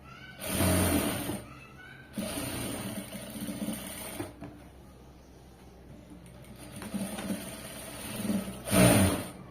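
Sewing machine stitching a side seam in cloth, heard up close in several bursts of rapid mechanical chatter separated by short pauses.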